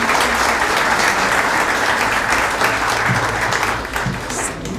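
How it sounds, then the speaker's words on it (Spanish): Applause from the audience at a book presentation, an anthology launch, with thick, loud clapping that carries on for several seconds and then eases slightly toward the end, with no speech. "Muy merecido el aplauso."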